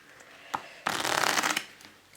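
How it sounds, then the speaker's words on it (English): A deck of cards is riffle-shuffled, a single click and then a quick flurry of fluttering card slaps lasting under a second, close up. "I slowly release pressure on both sides with my thumbs, and so it's shuffled."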